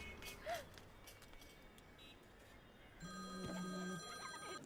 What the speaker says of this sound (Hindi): फिर से फोन करा है।